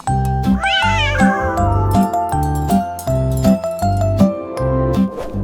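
A cat meows in a sweeping, rising-and-falling cry near the start of a French children's nursery rhyme song, set against a steady, bouncy musical backing that continues throughout.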